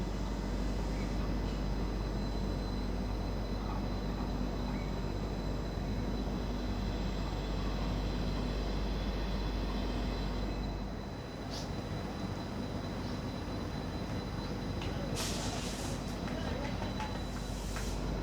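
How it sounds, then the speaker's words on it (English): A tiny five-coach passenger train hauled by a WDP-4D diesel locomotive arrives at a station near Mangalore, a steady loud low rumble and engine drone throughout, with a few brief higher squeals near the end. "Here comes the Subramania Mangalore passenger. It's a tiny 5-coach rake, hauled by a WDP-4D diesel locomotive."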